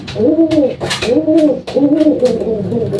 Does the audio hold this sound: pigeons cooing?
yes